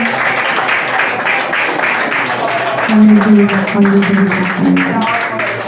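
A church congregation at a Sunday meeting claps along to welcome prayer, steady rhythmic hand clapping under a singing and chanting voice.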